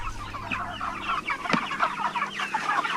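A flock of pasture-raised broiler chickens clucks and murmurs continuously outdoors, many overlapping soft calls close by with no talking.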